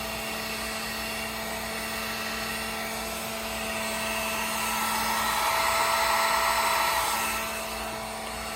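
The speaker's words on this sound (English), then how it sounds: "My heat gun only has one setting, low." A heat gun runs on its single low setting, a steady close blowing whir with a faint hum that swells slightly louder midway before settling back.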